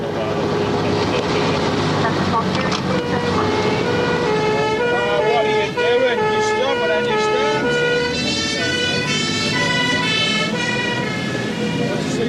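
A fire engine siren wails continuously as the truck responds to a house fire, its rising and falling tones loud and close over engine rumble, with voices talking in the cab.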